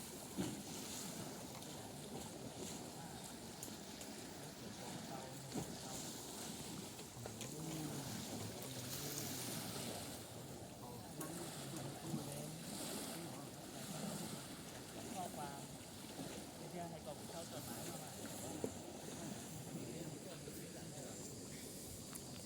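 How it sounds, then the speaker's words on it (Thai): Choppy waves wash steadily on Prasae Reservoir, a continuous rushing surge mixed with wind buffeting the microphone, faint and unbroken throughout. "คลื่นค่อนข้างแรงครับ"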